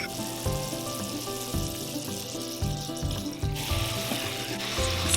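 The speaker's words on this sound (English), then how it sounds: "bring this to a boil until it's really bubbly, just like this." A cocoa and milk mixture boils in a pan, bubbling and sizzling steadily up close with a soft rhythmic pulse, alone without talk.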